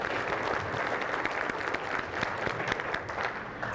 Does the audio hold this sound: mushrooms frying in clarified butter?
no